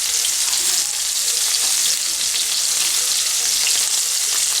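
Shrimp frying in oil for a spicy shrimp fry, a loud, dense and continuous sizzle with a steady bright hiss that holds evenly throughout, nothing else heard.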